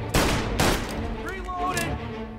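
Gunfire bursts in a Mafia Definitive Edition shootout, with two loud close volleys early on, then continuing shots and game effects ringing out over a steady background.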